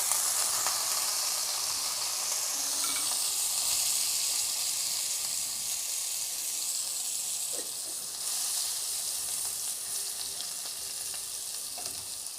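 Vegetables parboiled with salt and turmeric fry in a wok, giving a steady, fairly loud sizzle and hiss throughout with occasional stirring scrapes; no one speaks.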